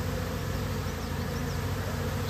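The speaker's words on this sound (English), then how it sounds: "This colony is jammed with bees" A crowded honeybee colony swarming, producing a dense, steady buzz that holds close and constant from start to finish.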